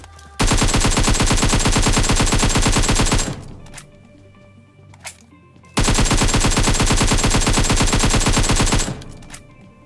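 Two long bursts of rapid automatic gunfire from a video game shootout against an enemy squad, each lasting about three seconds, loud and close, separated by a quieter lull.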